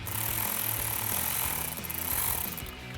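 A power tool with an 8mm socket tightens the air intake hose clamp on a 2018-2023 Ford Mustang GT, giving a loud, continuous buzzing rattle up close with no talking.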